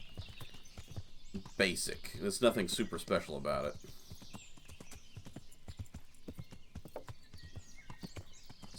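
Horse hooves clip-clop steadily in Kingdom Come: Deliverance, a regular close rhythm running the whole time beneath someone talking, with a brief burst of louder noise early on.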